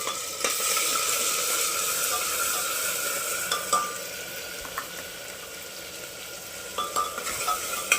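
Masala sizzles in hot oil inside a pressure cooker, a steady bright frying hiss running throughout, broken by occasional clinks and scrapes of a spoon stirring against the metal pot, close and loud.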